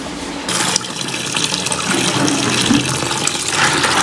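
Aquarium stones are washed under a running tap, a loud, close, continuous splash of water that starts abruptly and keeps gurgling and rattling throughout.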